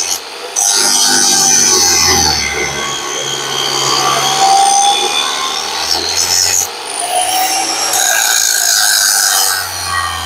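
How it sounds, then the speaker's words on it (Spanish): A 7-inch Abracol polishing disc on an angle grinder grinds a Ford Cargo 1721 truck's steel leaf spring, a loud, continuous abrasive roar with brief dips as the disc shifts on the metal. "Disco de pulir de 7 pulgadas. En este caso es un disco de pulir marca"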